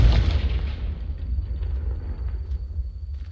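A Confringo blasting spell from Hogwarts Legacy bursts with a sharp explosive hit, then trails off into a low, fading rumble lasting a few seconds.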